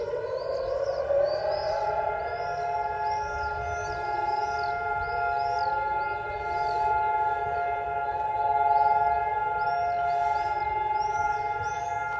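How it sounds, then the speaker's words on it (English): A long, steady memorial siren wails at Jerusalem's Western Wall during a Yom HaZikaron ceremony, its sustained tone held loud and unbroken over a low background rumble. "with the sounding of the 1-minute-long siren"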